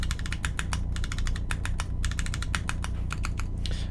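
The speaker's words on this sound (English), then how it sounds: "I think the stabilized keys sound really good" Fast, continuous typing on a Honeyboard 60 mechanical keyboard with stabilized keys, giving dense, loud, crisp clacks in quick irregular bursts, close to the listener, with no voices.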